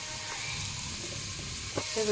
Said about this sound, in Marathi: चुलीवरती कांदा ठेवलेला आहे आणि त्यात तेल टाकले मम्मीने.